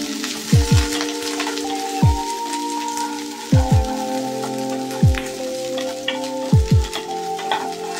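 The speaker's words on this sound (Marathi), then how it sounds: "मिनिटभर परतून घ्या।" Carrots and peas sautéing in a pan give a steady close sizzle, broken every second or so by short clattering stirs of a spatula against the pan, with no talking.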